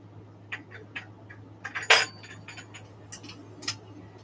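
A large glass lampshade from 1988 being handled: scattered light clinks and ticks of glass, with one brighter ringing chink in the middle, over a steady low hum.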